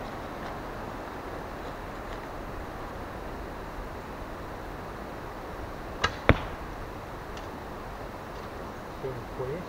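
A heavy wooden arrow fitted with a whistler is shot from a Turkish bow outdoors, giving a sharp release snap and a brief whistling flight over steady background hiss, with a voice faintly heard.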